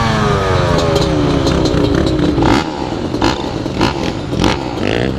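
A rebuilt 1997 Yamaha Banshee quad revs hard close by on its first ride, its two-stroke engine climbing in pitch then dropping and surging again with rattly, buzzing bursts.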